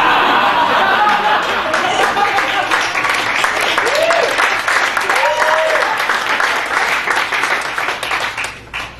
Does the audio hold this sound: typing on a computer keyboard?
no